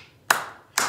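Two sharp hand claps about half a second apart, close and crisp with nothing else around them, keeping the beat in a children's clapping song game.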